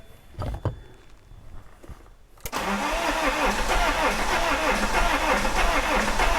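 An Iveco Daily recovery truck engine is cranked after priming and catches, settling into a loud, steady rough running after a few quiet attempts, with brief speech early on.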